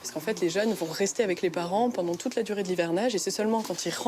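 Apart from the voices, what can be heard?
No everyday noises stand out.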